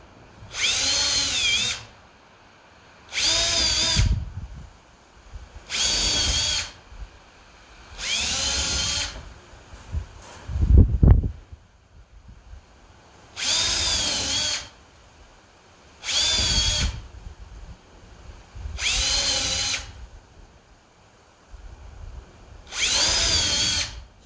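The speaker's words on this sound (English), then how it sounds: "You can pre-drill." A power drill whirs in repeated short bursts, roughly every couple of seconds, pre-drilling into wood for an insect hotel, with a brief clatter of handling midway.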